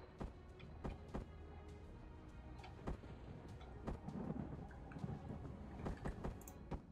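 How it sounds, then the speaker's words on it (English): Thunder rumbles through a storm outside in the video game Empyrion, low booming cracks and rolls recurring every second or so over a steady quiet background, with no one speaking. "It sounds like we got a storm going outside."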